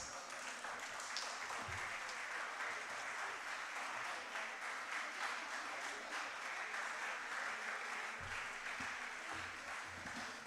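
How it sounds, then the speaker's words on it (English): An audience at a medical conference claps in a continuous, even round of applause, somewhat distant and soft, a broad patter of many hands sustained without a break. "please felicitate our organizing treasurer with a huge round of applause"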